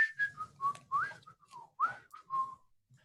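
A person whistles a short, wavering melody alone, a string of clear gliding notes with brief pauses between phrases, close and fairly loud.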